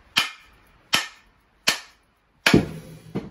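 A double bit axe head is struck down onto its wooden handle in four sharp, loud knocks at steady intervals. The last strike is heavier and rings on briefly, followed by a smaller knock.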